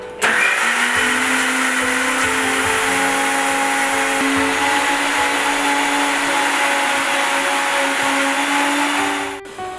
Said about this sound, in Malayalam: അപ്പം നമ്മൾ തേങ്ങയും പച്ചമുളകും കരിവേപ്പിലയും നന്നായിട്ട് നൈസായിട്ട് അരച്ചിട്ടുണ്ട്